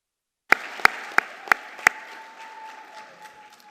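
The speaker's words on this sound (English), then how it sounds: "let's go ahead and give our graduates one more round of applause" Applause for high school graduates at a winter commencement ceremony opens with five loud, evenly spaced claps ringing out in a large reverberant hall, then settles into a softer, diffuse wash of clapping that continues alone.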